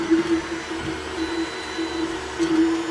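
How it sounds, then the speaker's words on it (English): An AnyCubic i3 Mega 3D printer running a test print gives a steady mechanical hum with a sustained tonal whine that rises in short stepper-motor bursts, close and continuous, no voices. "So right now the printer is printing the test file."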